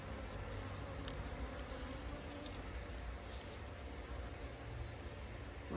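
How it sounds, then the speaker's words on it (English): A dense swarm of honeybees drones steadily in an open hive, a continuous close buzzing that fills the whole stretch without pause. "Lots of bees there too."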